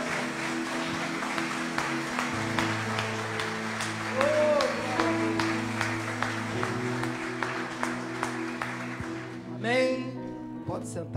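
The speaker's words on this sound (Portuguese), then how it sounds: "Aplauda o Senhor bem forte," A church congregation claps during a Sunday worship service over sustained music, the claps coming as sharp regular beats, with a voice rising near the end.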